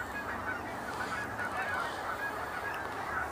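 A flock of escaped domestic geese honks continuously, many birds calling at once at close range with dense overlapping cries and no talk.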